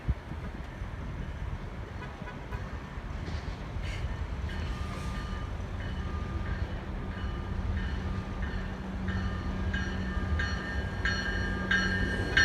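A passenger train bound for Laguna Niguel rolls through Fullerton station with a steady, loud rumble of wheels and cars, with higher squeals and brief horn toots partway through.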